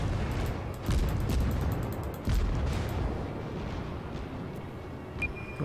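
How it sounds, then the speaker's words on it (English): A level 1 Erie cruiser fires its guns in World of Warships as heavy booming salvos, with two strong blasts over a dense, rumbling battle din. "what is going on with my shooting?"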